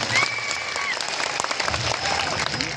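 Audience applauding at a village meeting in Kavat, a sustained burst of many hands clapping from a crowd, fairly loud and continuous for the whole stretch, with some voices mixed in.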